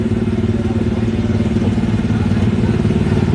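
Slow ride car engine at Disneyland running steadily and close, a continuous low mechanical drone with a rattling, clattery texture that holds an even level throughout, without any talk.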